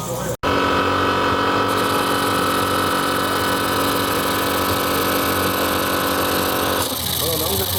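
A miniature steam engine running fast at a steam-model gathering, a dense steady mechanical whir and rapid clatter close by, continuous and loud, with a brief dropout at the start and a voice talking over it.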